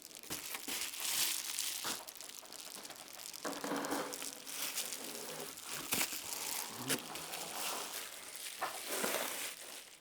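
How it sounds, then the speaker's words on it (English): Crinkling, tearing and crumpling of flex duct insulation being taped to duct insulation during an ERV installation, close and continuous with rustling bursts; a voice speaks at times underneath. "So I'll tape the flex duct insulation to this insulation"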